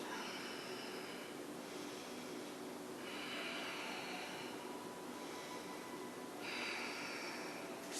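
Slow breathing while holding a yoga warrior one pose, several audible breaths with airy exhalations rising and falling at an even pace, close and fairly quiet over faint background hiss.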